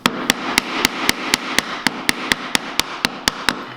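A mallet strikes a chisel cutting wood while a Japanese hand plane (kanna) is being made: a steady series of sharp, evenly spaced knocks, roughly four per second, close and loud, with no talking.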